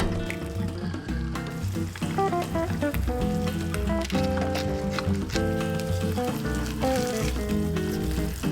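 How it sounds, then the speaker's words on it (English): Butter sizzles and crackles steadily in a frying pan as an egg cooks, a close, continuous frying hiss with small pops and some clinking of utensils. "The key to frying a good egg,"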